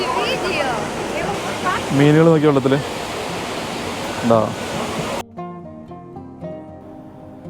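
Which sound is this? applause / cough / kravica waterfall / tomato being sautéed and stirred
kravica waterfall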